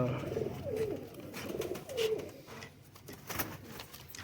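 Lakha pigeons coo in soft repeated rounds, several low throaty calls close by, with rustling and faint background noise between them.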